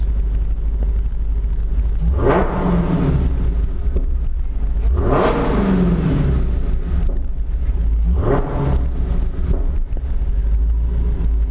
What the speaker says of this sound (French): je vais faire un petit coup de revs juste pour voir comment ça résonne vite fait